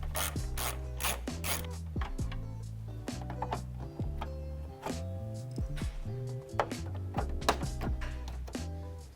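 A hand ratchet clicks rapidly in repeated bursts while removing a 10mm screw from the grille center post of a Toyota 4Runner, close and distinct, with short pauses between strokes.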